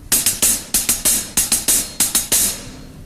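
A drummer repeats a one-beat figure of two 16th notes and an 8th, giving quick double strikes followed by a longer one. The close, loud hits carry bright cymbal wash over low kick thumps, and no one speaks.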